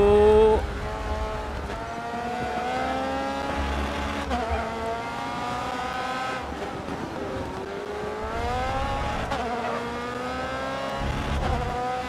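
A race car in the GRID Autosport video game accelerates hard, its engine pitch climbing through several gear sweeps with brief drops between shifts, loud and steady.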